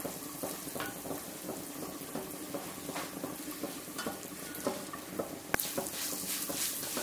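Grated coconut being stirred into a pot of cooked sardines, a steady close-up scraping and wet patter of the spoon through the mix, with soft sizzling underneath and one sharp knock near the end.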